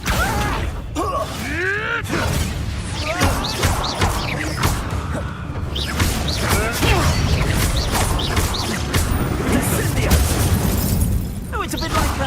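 A Confringo blasting spell being cast in Hogwarts Legacy: loud booming impacts and crackling, shattering effects mixed with busy game sounds and whooshing tones that run continuously.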